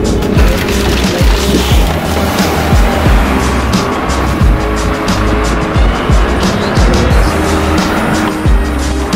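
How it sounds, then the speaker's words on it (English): Ride inside a city bus, with a loud continuous road rumble broken by repeated thumps, bumps and rattles as the vehicle moves along, and no voices. "I have to go home with the bus now"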